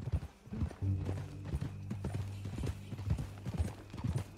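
Horse hooves clip-clop at a walking pace on a ranch, a steady close rhythm of knocks with a low sustained hum running beneath part of it.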